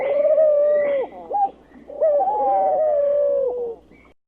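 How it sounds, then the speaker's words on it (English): A pigeon coos in two drawn-out, wavering calls with a short pause between them, close and clear against a quiet background. "Pigeon."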